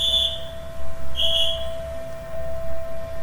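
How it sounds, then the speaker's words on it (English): Police whistle in the video game Through The Darkest Of Times, two shrill, steady blasts with a gap between them, set over a low ambient game hum. "I hear the sound of a police whistle and more policemen comes running"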